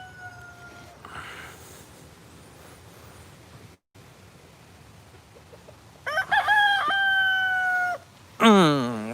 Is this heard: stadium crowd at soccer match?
no